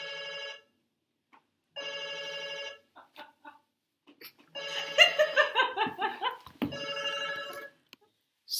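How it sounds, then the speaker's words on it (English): A mobile phone rings in repeated electronic tone bursts separated by silences, with a brief burst of laughter-like sound in the middle, close and clear. "Sorry about the phone call."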